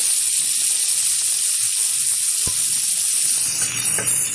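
Steady, loud sizzling of chopped tomato added to frying onions in hot oil, a continuous hiss with a couple of brief knocks partway through.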